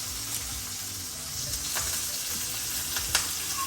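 Spices crackle and sizzle steadily in hot oil for a squash pickle, a close, continuous frying hiss with scattered sharper pops, no voices.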